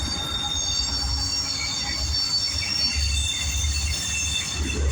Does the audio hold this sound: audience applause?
no